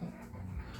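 A dog whimpers faintly and briefly, a soft, thin, quiet whine that sits low and close with no one talking.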